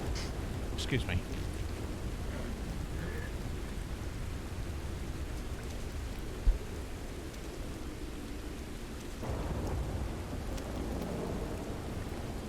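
Steady rain in Red Dead Redemption 2, a broad continuous wash of rainfall with a low rumble, playing evenly throughout with a brief thump midway and a slight swell near the end.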